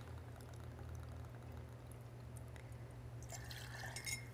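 Maker's 46 bourbon poured into a glass in a home kitchen: a faint, close liquid pour that rises near the end of the clip over a steady low hum, with no talking.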